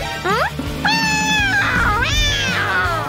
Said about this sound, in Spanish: Hola, gatito. Lindo gatito.